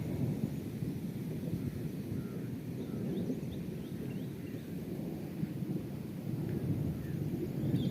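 Cool wind blows steadily outdoors on an evening with rain falling somewhere nearby, a continuous low rumbling rush with gusty swells, fairly faint and without any voices.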